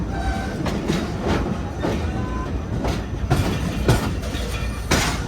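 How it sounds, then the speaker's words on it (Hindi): A Tezgam passenger train rolls slowly on the loop line through Saija railway station, its wheels clacking at regular intervals over a constant rumble, heard from inside the carriage with faint voices in the background. "ट्रेन हमारी सैजा रेलवे स्टेशन से गुजर रही है आहिस्ता आहिस्ता"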